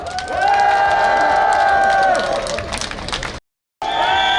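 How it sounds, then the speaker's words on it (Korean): Outdoor crowd at a joint campaign rally for People Power Party candidates in Gimcheon cheers, whoops and applauds loudly and steadily, with a voice rising over it before a brief silence and renewed noise. "국민의힘 기호 2번 후보들에게 뜨거운 박수를 부탁드립니다"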